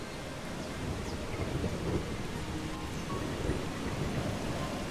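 A video game storm in Eastshade brings steady heavy rain and low rolling thunder that swells and fades, with a dense continuous wash, and no voices are heard.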